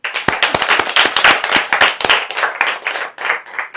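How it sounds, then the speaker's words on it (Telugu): A group of people clapping hands together in a hospital room, a dense burst of loud, close applause that keeps going and thins out slightly toward the end. "అందరూ ఇప్పుడు క్లాప్స్ కొట్టండి"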